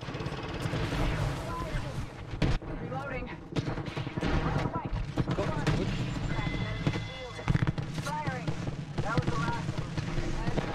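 Bursts of video game gunfire crack repeatedly through a busy, loud mix, with shots scattered across the whole stretch and players talking over the top.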